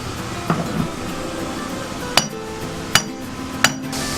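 Sharp hammer blows knock a boat's cutlass bearing loose from its propeller shaft housing, with one softer tap followed by three distinct ringing metallic strikes spaced about a second apart over a steady background.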